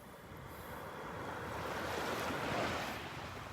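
Ocean surf at Vanderbilt Beach, a broad continuous wash of breaking waves swelling slightly louder toward the end, with light wind buffeting the microphone and no talk.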